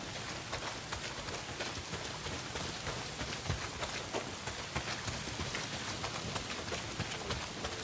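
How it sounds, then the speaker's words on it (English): Heavy rain pours steadily in the Days Gone game world, a dense, unbroken hiss of drops with no voices over it. "Well, not if it's pissing down rain"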